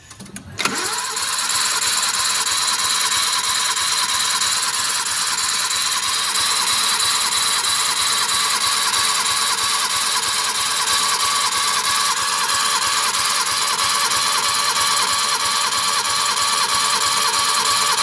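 A turbocharged kei car engine cranks over steadily on the starter for a compression test on cylinder one after a valve adjustment, a loud, even whirring drone that holds from just after the start until the end.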